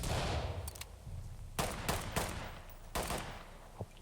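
Gunshots in the tactical shooter Ready or Not, several sharp separate cracks a second or so apart over a dark, low ambient rumble, fairly close and with no talk over them.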